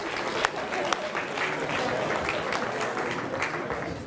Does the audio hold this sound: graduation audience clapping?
yes